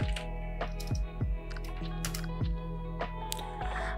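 Typing on a computer keyboard into a web browser: a steady run of crisp key clicks at an uneven pace, close and clear over a faint constant hum, with no voices.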